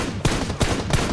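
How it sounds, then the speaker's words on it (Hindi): Three sharp, loud gunshots from a video game firefight in a solo-versus-squad battle royale match, spaced about a third of a second apart with no talk over them. "ये देखो यहाँ पे गोली चलाई"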